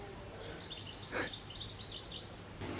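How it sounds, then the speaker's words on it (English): Several birds chirp and twitter outdoors, high quick calls repeating over faint background noise at moderate distance. "Very noisy birds today."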